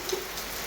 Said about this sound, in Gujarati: 10 વાગી ગયા છે અને જ્યાં વરસાદ આવ્યો છે